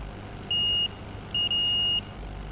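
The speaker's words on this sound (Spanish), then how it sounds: "Y al presionar con la pinza tiene que sonar el pitido." A multimeter set to continuity, testing a push-button switch before soldering, gives two clear electronic beeps: the first short, the second longer, with a brief break near its start, over a quiet background.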